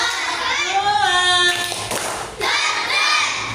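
Children in a fourth-grade class clap their hands together in a counted rhythm, a few sharp claps mixed with young voices chanting along.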